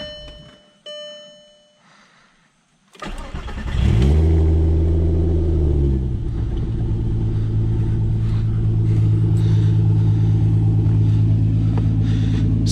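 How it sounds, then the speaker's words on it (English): A Volkswagen MK4 Jetta VR6 with its muffler cut off starts up loud after a few seconds of quiet, a rising rev settling into a deep, raspy, rumbling idle close to the car. "we've done a bit of exhaust work on this thing because we have cut the muffler off of this"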